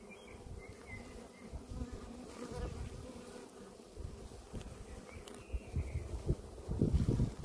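Honeybees hum steadily around open hives during a Sunday apiary visit, a continuous low buzz with faint wind and handling noise, growing louder and busier near the end.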